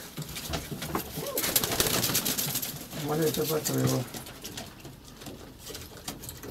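Pigeons coo softly nearby, a cluster of throaty murmuring calls in the middle, while someone talks over them.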